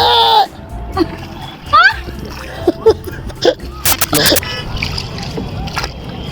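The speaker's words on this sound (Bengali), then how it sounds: "এই বেয়াদব স্পিড বোট। এখন ঢেউ হবে।" Water splashing from a speedboat's wake near the Mahananda bridge, a series of short slaps and sloshes against a small boat, close by, with people talking over it.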